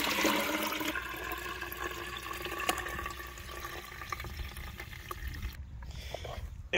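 Liquid from a compost bin is poured and splashed into a garden compost mix on a homestead, a steady gushing, trickling pour close by for most of the stretch before it tapers off near the end.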